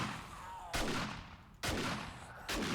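Three loud, evenly spaced gunshots are fired at radiated bikers in 7 Days to Die, each a sharp crack followed by a long fading echo, with no voices.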